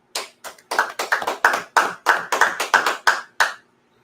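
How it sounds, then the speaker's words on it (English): A small class claps together indoors in a loose, uneven burst of roughly a dozen distinct claps over a few seconds, close and sharp, then stops. "Let's clap it up."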